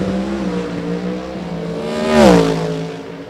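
An Oldsmobile late model race car roars through a qualifying lap at Great Bend, its loud engine drone climbing in pitch as it sweeps past close by, then falling away.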